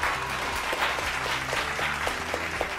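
Studio audience on an Indonesian talk show gives applause for two arriving guests, a steady patter of claps over low music-like tones, moderately loud throughout.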